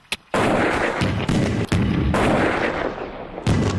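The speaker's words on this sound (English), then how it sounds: "The massive mortars blew the laptops at least 20 metres into the air." Powerful mortar blasts go off in quick succession, loud, close booming explosions launching laptops into the air, one sharp report followed by a rolling barrage of deep thuds and cracks.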